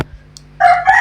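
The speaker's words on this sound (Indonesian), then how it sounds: "Suara ayam kau bilang burung." A rooster crows loudly and close, a sudden harsh call starting partway in after a moment of near quiet.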